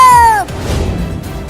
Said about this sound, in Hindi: अरे वो बिल्ली मुझे रोकने के लिए क्यों बोल रही है?